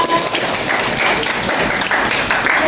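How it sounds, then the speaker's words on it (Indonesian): A classroom full of students clapping together for a classmate named Cica, a steady, even burst of applause heard close up and lasting throughout. "beri aplaus untuk Cica"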